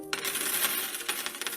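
Quarters drop and clink one after another as coins are counted out, a quick, bright jingle of metal pieces landing close by with no voices.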